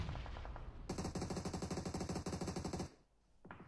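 Rapid automatic gunfire from PUBG Mobile rattles in a steady stream of sharp shots for about two seconds, then stops abruptly, leaving a brief lull before another burst starts.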